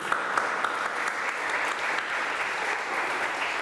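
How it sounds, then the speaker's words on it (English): An indoor audience at an evening Japanese art event claps steadily and densely for several seconds, a full, even wash of applause. "One more round of applause, and then I'll tell you why you're applauding."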